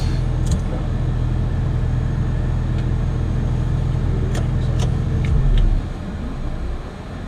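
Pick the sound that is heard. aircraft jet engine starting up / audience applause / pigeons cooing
aircraft jet engine starting up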